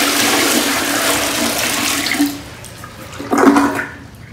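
Water from a 15-liter bucket gushes into a toilet bowl in a loud, rushing splash that tapers off, followed by a second shorter surge of water near the end.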